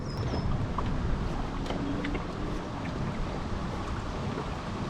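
Steady wind gusts over open water while a fishing kayak is tested in roughly 12 to 13 mph wind, a constant broadband rush with buffeting on the microphone and faint lapping of water, no voices.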